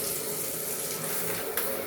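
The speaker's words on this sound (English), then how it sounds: "So we got the tub going." Bathtub faucet in a newly tiled bathroom under renovation, water running in a steady close rush filling the tub, with a brief knock near the end.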